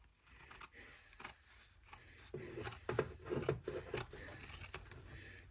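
Scissors snip repeatedly through fabric while a small embroidered wallet is trimmed, a series of close, crisp cuts in an irregular rhythm, quiet at first and then louder and denser.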